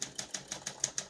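Keys struck on a 1972 Olympia SM9 portable typewriter, about eight crisp evenly spaced clacks in a quick steady rhythm, close and fairly quiet, with no talk.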